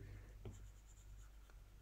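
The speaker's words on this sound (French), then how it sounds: "vous entendez le bruit sur la tablette. Après, j'ai une protection dessus hein, qui est censée faire un peu papier" Soft scratchy strokes of a stylus dragging across a paper-textured tablet screen protector, faint and close, with a low steady hum underneath.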